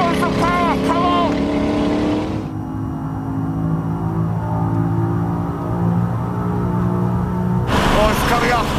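A car engine revs hard under full throttle, its tone rising steadily through a long pull with a roaring, droning note, while people talk excitedly over it at the start and end.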